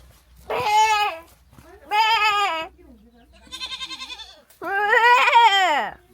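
Several loud, wavering bleats from goats nearby, one after another with short pauses, including a shorter quavering call between them.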